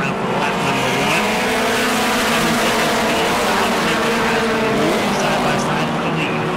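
Race cars at a weekly Auburndale track event running side by side for the lead, a loud, continuous engine roar with rising and falling pitch as they pass close by, under a steady wash of crowd and track noise.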